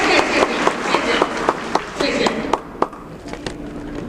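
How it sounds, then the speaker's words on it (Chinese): An audience claps in broad, sustained applause at a Veterans' Day ceremony held in a school hall, the steady patter running under a loudspeaker voice, with a few sharper claps standing out. "听听，大家再次掌声，谢谢"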